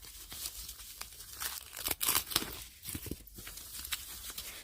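Crinkling and tearing of packaging around a Coach denim bag, soft rustles with a few sharper rips, close and fairly quiet, no talking.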